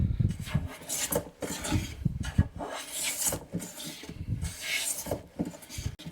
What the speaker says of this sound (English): We're gonna listen for that consistent, smooth shaving.